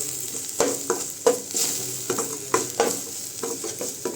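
Ginger and garlic paste frying in a pan for a prawn dish, a close steady sizzle broken by frequent rhythmic scrapes and taps of a spatula, with no talking.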